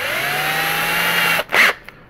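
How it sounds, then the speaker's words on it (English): A 1/8-inch drill bit bores a pilot hole into the leg of a quarter-scale Beast figure prototype, the drill whining steadily and close before it stops with a short burst of contact noise. "I'm going to drill a pilot hole into this leg here"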